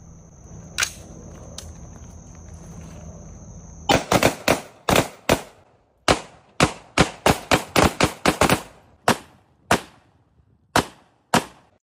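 Gunshots from a woman firing at bras: after a hushed, hissy opening, a rapid volley of sharp, loud cracks breaks out, then continues as spaced single shots with short gaps between them, with no talking.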